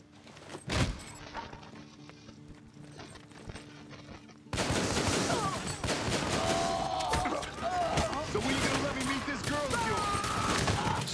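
Gunfire in the game Army of Two: The Devil's Cartel, starting with a lone sharp shot, then turning into dense, loud bursts of automatic fire under excited talking.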